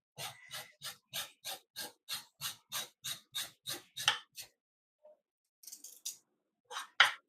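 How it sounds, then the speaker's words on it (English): A knife scrapes a raw carrot while Jamaican steamed fish is being prepared, making about a dozen close, evenly spaced rasping strokes, followed by a pause and a few scattered scrapes. "So I'm going to scrape my carrot."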